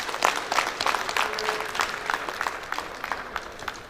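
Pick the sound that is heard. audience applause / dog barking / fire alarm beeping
audience applause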